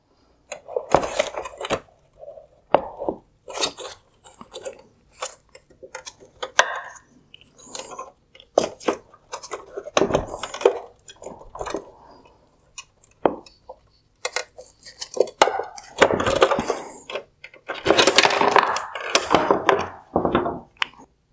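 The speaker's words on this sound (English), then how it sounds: "While turning both screwdrivers, I will pull the reflector forward." Two screwdrivers pry and twist at the plastic mounts of a Mercedes-Benz GLC300 LED headlight reflector from 2016–2019 as it is pulled forward, giving scattered close clicks, scrapes and knocks in irregular bursts throughout.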